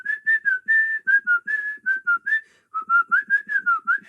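A melodic whistled tune, the Hall of the Mountain King theme as whistled in the film M, carried in a steady run of short phrased notes with a brief pause midway, clear and alone.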